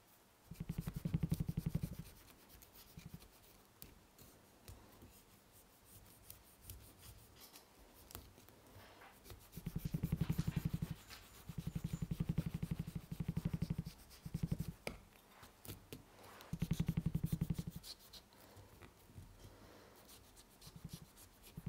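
Leather being skived for a beginner bifold wallet with a very sharp knife or French shave, worked line by line: repeated scraping strokes come in bursts, close and fairly quiet, with no talking.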